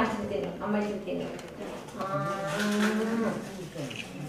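Cows kept at a home in Kerala give several drawn-out moos close by, mixed with people talking nearby.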